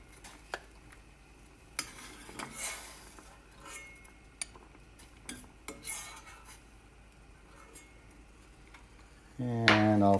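Boiled Chinese jiaozi dumplings being drained and lifted from the pot, with scattered clinks and light scrapes of utensils against cookware, then a louder burst of pouring and clattering at the very end.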